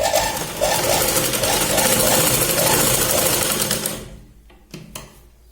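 A sewing machine runs steadily for about four seconds, double-stitching tucks through the lining and main fabric of a katori blouse, then stops, leaving a few faint clicks and handling sounds.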